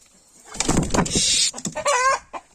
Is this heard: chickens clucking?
yes